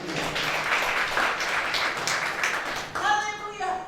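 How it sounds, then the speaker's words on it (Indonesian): Applause from a church congregation fills a Sunday worship service, a steady wash of many hands clapping close by that tapers off, followed at the end by a short burst of voices. "berikan tepuk tangan bagi dia"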